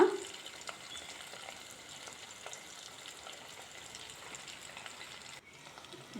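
Soft, steady sizzling and bubbling of homemade ghee in a pan, a continuous crackling fry with no voices.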